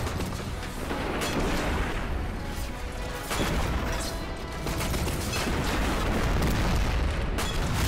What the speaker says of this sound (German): Alles nur noch am Explodieren und am Kaputtgehen hier.